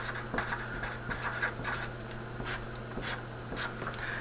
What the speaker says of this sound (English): give me a second to write that down